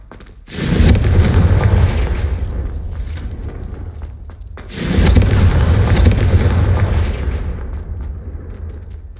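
Confringo, an explosive spell cast in the video game Hogwarts Legacy, goes off as two loud booming blasts, each one sudden and followed by a long, rumbling decay.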